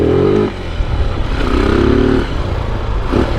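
A close, loud motorcycle engine idling and revving in Calbayog, Philippines, its pitch rising and falling in a couple of surges.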